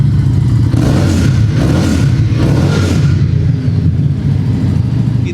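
A superbike fitted with a Scorpion exhaust is revved hard close by, rising in roaring bursts through the first three seconds, then settling back toward a rumbling idle.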